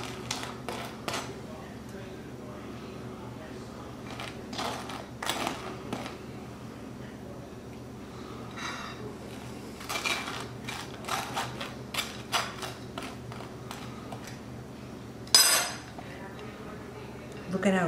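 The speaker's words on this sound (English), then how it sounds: "Now I'll butter my English muffin." A knife scrapes butter across a hot toasted homemade English muffin, soft intermittent scratching strokes close by, with someone talking throughout.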